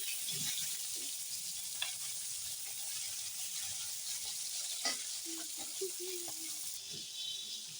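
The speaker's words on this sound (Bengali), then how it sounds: "এদিকে মাথাগুলো এগুলো ভাজা হচ্ছে" Rohu fish heads fry in a pan with a soft, continuous sizzle and light stirring scrapes. Quiet voices are heard now and then behind it.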